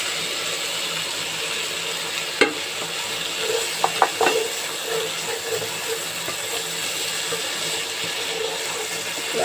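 Masala spice paste for a soybean roast fries in a pan and is stirred, giving a steady, close sizzle with a few sharp scrapes and clinks of the spoon.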